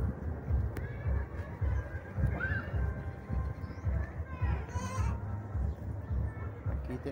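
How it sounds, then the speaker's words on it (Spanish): A pygmy goat at a zoo gives a couple of short, reedy bleats amid low rumbling background noise and intermittent voices, the calls fairly faint and distant. "La cabra enana la tenemos por aquí."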